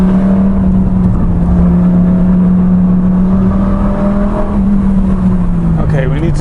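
A Lamborghini Gallardo pulls hard out of a hairpin on a winding mountain road, its engine a loud steady drone heard from inside the car, with the pitch holding and then dipping slightly near the end.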